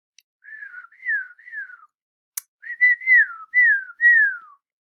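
A person whistles a short tune in a Whistle for Willie reading, a run of clear, gliding notes in two phrases split by a brief click, close and alone without talk.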